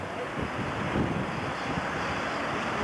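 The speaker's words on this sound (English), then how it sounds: "Very kind of windy up here" Strong wind roars steadily across the microphone, a continuous low rumble and hiss with no clear voices.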